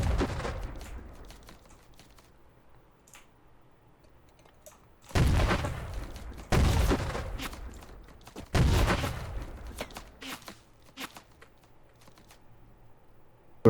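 Admin launcher explosions in the video game Battle Cry of Freedom: several loud, sharp booms spaced a few seconds apart, each trailing off into rumble and crackling debris, with quieter clicks and small pops between them.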